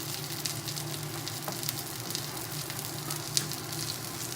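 Risotto rice cooks in a pan at low heat, giving a steady, gentle sizzle and crackle with occasional soft pops and light stirring, close and continuous, with no talking.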